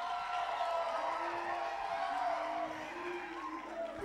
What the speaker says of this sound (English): can I hear some round of applause as we begin?